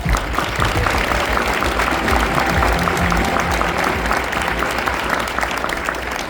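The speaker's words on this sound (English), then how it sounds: "Please welcome Dr. Brett Weber with a huge round of applause." An audience at the Feast of Nations event applauds as a speaker takes the stage, sustained full-room clapping with a low crowd murmur and occasional shouts underneath.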